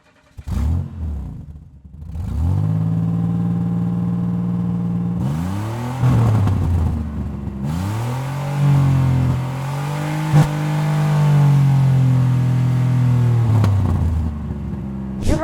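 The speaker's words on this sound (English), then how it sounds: "It has a big engine and it sounds amazing when you start it." A Lamborghini Urus engine starts with a sharp crank and catch, then settles into a loud idle broken by several rising revs, close up with no voices.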